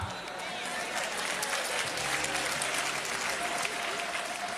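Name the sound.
audience applause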